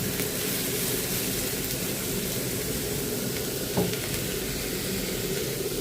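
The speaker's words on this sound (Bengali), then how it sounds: "এই চুলায় হচ্ছে ভর্তার জন্য একবারে পেঁয়াজ, কাঁচামরিচ, রসুন এগুলো একটু হালকা ভেজে নেব" Onion, green chili and garlic fry in a pan on a stove, giving a steady, dense sizzle that holds evenly throughout, close and fairly loud with no voices.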